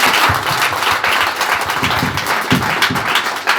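Applause from an audience at a French-speaking association gathering during a new president's speech, steady dense clapping filling the whole stretch with a few sharper claps standing out, no voices on top.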